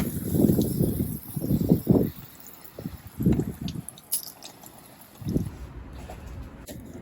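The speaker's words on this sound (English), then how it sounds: "Now we're gonna water the tree thoroughly." Water splashes and drips over a bonsai tree with a Spanish moss top coat as it is watered thoroughly, several soft low gushes in bursts with pauses between, close by.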